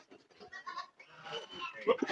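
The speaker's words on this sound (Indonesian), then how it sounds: "Kambing apa? Anglo-Nubian." Anglo-Nubian goats bleat nearby in wavering calls at a goat farm, with people talking in the background.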